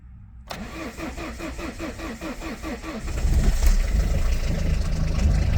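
A Ford Fiesta 1.8 diesel engine cold-starts at about -7°C on a jump starter with a dead battery. The starter cranks rhythmically for a few seconds, then the engine catches and settles into a loud, rough, close idle.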